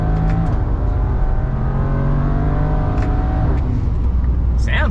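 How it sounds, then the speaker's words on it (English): BMW N54 twin-turbo engine running on an ethanol blend, pulling hard under boost from inside the car, a steady loud drone rising in pitch through the gears with a brief shift dip and road roar; a voice speaks faintly beneath it. "just wanted to show you guys what it sounds like, because it does sound different when you're running it on a bit of ethanol"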